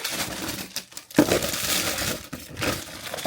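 Plastic bags of candy crinkle and rustle as they are packed together into one bag, a close, continuous crumpling with a few louder crunches and no talking.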